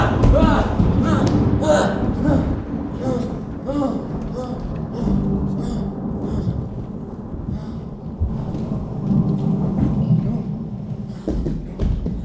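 Stage thunderstorm effect with steady rain during a live theatre play, a continuous loud wash with low rumbling thunder swells and thuds, voices speaking over it.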